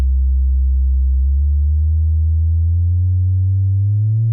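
A steady sine tone from the Serum synth sweeps slowly upward from a very low pitch to test room resonance, loud and continuous, with a slight wavering near the end.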